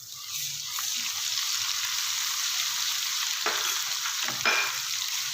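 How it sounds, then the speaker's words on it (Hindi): Onions and ginger garlic paste fry in a pan for dal fry with steady sizzling, broken by a few clinks and scrapes of stirring. "अच्छे से इसको प्याज के साथ भून लेंगे।"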